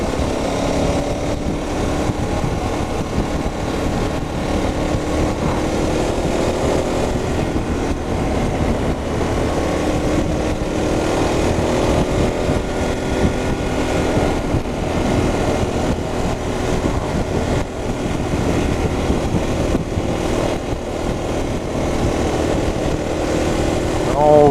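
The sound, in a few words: KTM 1290 Super Adventure S motorcycle engine riding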